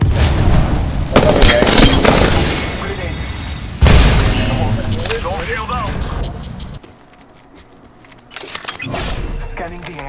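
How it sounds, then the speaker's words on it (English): Thermite grenade blasts amid a firefight in Apex Legends: heavy booms and crackling gunfire surge and drop, with a brief lull before combat noise resumes; game voice callouts are heard over the action. "Thermite grenade"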